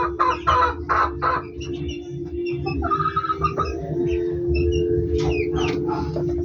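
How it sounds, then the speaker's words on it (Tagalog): Laying hens cluck repeatedly in a backyard coop, a series of near, loud bursts over a steady low hum, with a brief rooster-like call mixed in. "yung mga manok natin na inahin"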